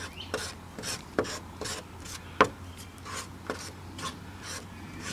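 Bondo body filler is worked together with hardener on a mixing surface, a series of rhythmic rasping scrapes about twice a second, close and fairly quiet, with one louder stroke midway.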